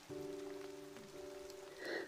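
Heavy rain falls steadily and close, a dense hiss with a few louder gusts near the end, while a steady low hum sits underneath.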